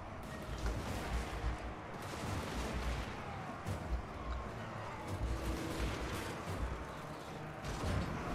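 Troops trade steady, continuous gunfire in a fantasy strategy game battle against goblin units. A dense, rumbling wash of shots and distant booms plays the whole time at moderate loudness, with no voice over it.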